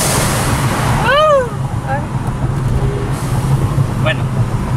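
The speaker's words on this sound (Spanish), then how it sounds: "vamos a ver si aquí se escucha un poquito el soplido del turbo" A damaged Volkswagen GTI's turbo, heard in a repair workshop during a fault check, gives a brief whooshing hiss with a rising and falling whistle about a second in, over a steady low engine rumble and background noise.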